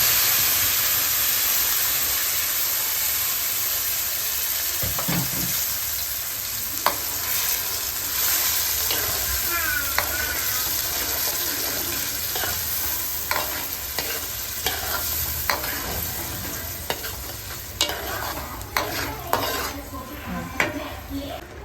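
A tomato and onion paste fries in hot tempering oil for dum aloo, with a steady sizzle and repeated clinks and scrapes of a spoon stirring against the pot, close and continuous.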